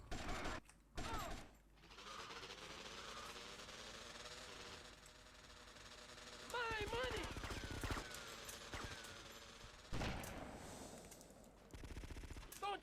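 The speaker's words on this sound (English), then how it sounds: "when you're sniping these last two guys, you want to shoot the guy that's here" Gunfire from GTA Vice City comes through during sniping, with bursts of shots and mechanical weapon noise over in-game ambience. A voice talks intermittently underneath, and the overall level is fairly quiet.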